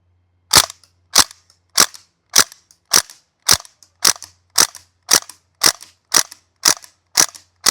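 North East Sten gas blowback airsoft gun firing a full magazine, with a dozen loud, crisp, evenly spaced shots at roughly half-second intervals, each with a short metallic clack of the moving bolt, close up and with no talk.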